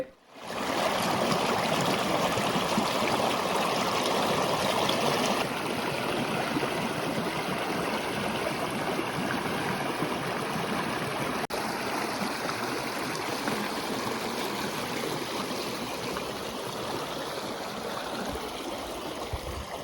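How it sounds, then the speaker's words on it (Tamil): River water flowing steadily in a continuous broadband rush, close and loud, a constant stream sound with no voices through the whole stretch. "நான் தண்ணீர் போகிற அழகை பார்த்து ரசிச்சிக்கிட்டு இருந்தேன்"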